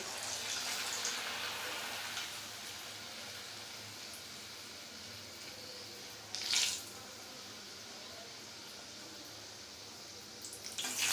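Rolled luchi frying in hot oil, a soft continuous hiss with a louder sputter burst midway, heard alone without speech.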